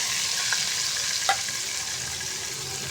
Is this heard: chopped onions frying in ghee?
yes